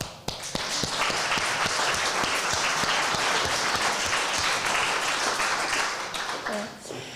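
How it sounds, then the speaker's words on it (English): An audience at an international Geneva youth contest awards ceremony applauds in a dense, continuous wash of clapping that swells quickly and holds steady before tapering near the end. "Another applause."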